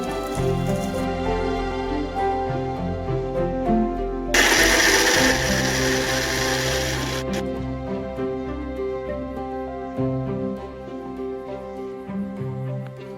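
A mixer grinder whirs steadily with a mechanical, geared drone as it grinds roasted ingredients into paste, and a harsher, louder burst of grinding comes through midway.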